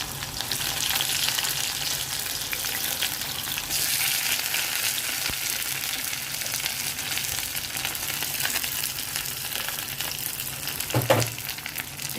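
Onions, green chillies and curry leaves fry in hot oil in a kadai for a Telugu chicken fry, giving a steady close sizzle and crackle with faint stirring scrapes and no talking.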